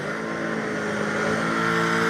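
Turbocharged drag race cars with blow-through carburetors, including a Dakota and stick-shift cars, idle loudly at the start line of a drag racing event, a steady droning engine rumble that swells slightly toward the end.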